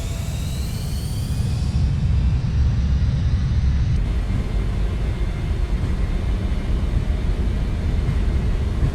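Airliner engines roaring through the takeoff roll in Microsoft Flight Simulator 2024, on a flight from Vagar to London City: a loud, steady, broadband rumble that holds without a break throughout.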